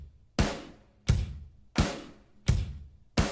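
A full drum kit played in Logic without orchestral drums: four loud, evenly spaced hits, each a punchy kick-and-crash burst that rings and decays before the next, close and alone with no talk.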